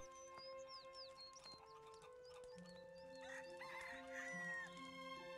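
Chickens and a rooster in the video game Gothic 3, with clucks, short calls and a crow over a busy ambient soundtrack with sustained tones, moderately loud and steady throughout.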